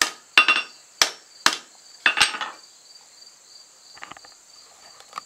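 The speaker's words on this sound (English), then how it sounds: "I can get a little bit of it with the hammer." Five or six sharp metallic hammer strikes on a steel auger bit ring out at an irregular pace, each with a bright clang and short ringing tail, followed by faint lighter taps.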